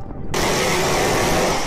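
A seven-barrel rotary aircraft cannon fires a sudden, loud, continuous burst, an unbroken roaring buzz that starts sharply and holds for well over a second.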